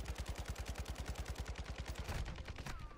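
Rapid automatic gunfire in the Call of Duty DMZ video game, a fast, regular burst of loud cracking shots, roughly a dozen per second, sustained for nearly three seconds before stopping.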